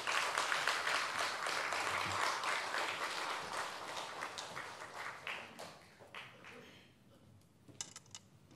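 A church congregation applauds together at a Sunday worship service, with loud, dense clapping that thins out and fades to scattered claps.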